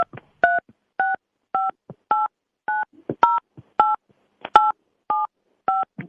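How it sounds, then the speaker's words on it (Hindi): Keypad tones from a mobile phone as a 16-digit debit card number is entered: a dozen or so short, clear beeps in an uneven rhythm, separated by soft taps and no talking. "आप अपने मोबाइल फोन से अपना डेबिट कार्ड का 16 अंक का जो नंबर"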